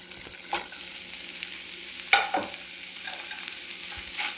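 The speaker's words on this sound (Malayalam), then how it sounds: "ഇനി നമ്മളെടുത്ത് വെച്ചിരിക്കുന്ന കോളിഫ്ലവർ ഇട്ട് കൊടുക്കാം" Cauliflower for fried rice sizzles gently in a pan while a utensil stirs it, giving a soft continuous fry with a few sharp scraping clicks close by.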